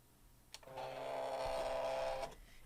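A cutting machine slices a cardstock superhero mask, a steady mechanical whir with a tonal hum that starts after a faint click, holds evenly for about a second and a half, then stops.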